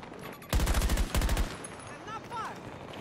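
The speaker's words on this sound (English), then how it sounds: "AM40 just plays like an SMG" AM40 gunfire in the video game Battlefield 2042, two fast automatic bursts of close, loud rapid shots roughly half a second each, followed by fainter game effects and small chirping tones.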